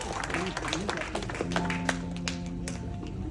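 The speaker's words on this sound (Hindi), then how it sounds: "एक बार जोरदार तालियों से इस्तकबाल करें" An audience at a ghazal and poetry function applauds to welcome a guest. The clapping is dense and steady and continues alongside a voice and a sustained musical tone.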